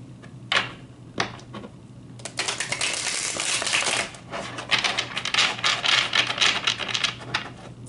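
Tarot cards are handled: a few separate snaps and taps, then a long run of rapid riffling and flicking as the deck is shuffled and cards are pulled close by.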